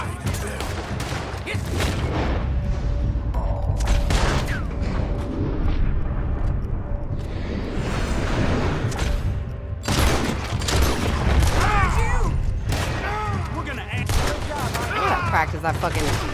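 Gunfire from a shootout in the video game Red Dead Redemption 2, with repeated loud shots and bursts spread across the scene, mixed with game ambience and occasional voices.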